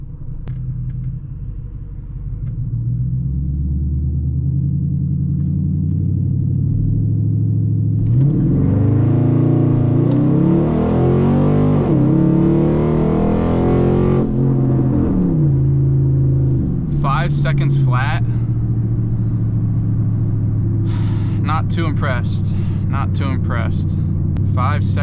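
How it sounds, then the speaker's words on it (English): A Dodge SRT8 launches hard in a 0 to 60 run, its engine rising from a deep idle rumble into a loud, sweeping acceleration roar with revving gear changes, while tires spin on 315-section rear tires. "We are about to get into our first 0 to 60 pull here."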